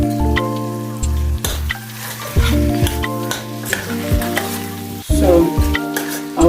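Prepared ground beef filling for a crunchy meat pie is stirred in a pan. A loud metallic spoon scrapes and clatters against the pan in uneven strokes over a low sizzle, with a humming tone underneath.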